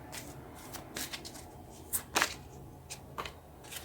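Tarot cards being drawn and shuffled by hand: soft papery flicks and slides in a quick irregular run, close and fairly quiet, with a few sharper snaps, no talking.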